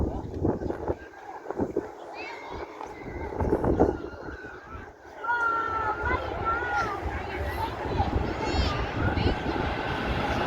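A Ryanair airliner passes at Manchester Airport with a broad, steady jet roar and windy rumble that builds and holds, while people talk over it outdoors.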